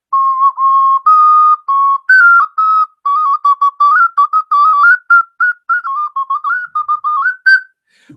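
A silly whistle sound effect plays on its own: a loud, clear series of short warbling toots and slides, close and dry, with a quick stop at the end.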